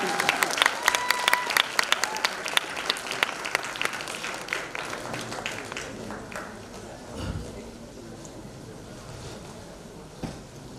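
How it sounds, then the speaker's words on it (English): Audience applause fills a theatre after a stage performance, steady dense clapping that gradually thins and softens over several seconds, heard moderately distant. "A big round of applause from Principal Ma'am and Mr. Deepak."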